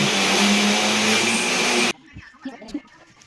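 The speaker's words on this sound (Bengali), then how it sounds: "এই দেখো, পাম্প চালু করছি, স্টার্ট।" A Jindal water pump motor runs with a loud, steady whirring hum for about two seconds, then cuts off abruptly, leaving a few faint knocks and rustles.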